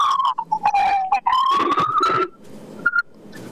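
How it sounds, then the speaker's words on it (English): Police siren wailing in the background, its pitch sliding up and down and then fading, heard behind a phone or broadcast conversation. "What is that siren in the back there?"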